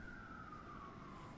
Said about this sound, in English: Yeah, that's an ambulance.